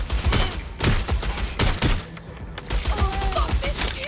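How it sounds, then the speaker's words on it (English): Heavy gunfire in the video game Watch Dogs: Legion on PS5, repeated loud bursts and thudding shots spread across the moment with shouts of alarm between them. "I'm getting shot at here."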